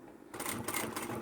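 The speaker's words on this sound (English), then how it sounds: "a regular sewing machine, you want to go slow because we're going over lots of layers" A regular home sewing machine with a universal needle stitches slowly through many layers of a lined cross-body satchel bag, starting after a brief quiet moment and then running steadily, close and fairly loud, with no talk.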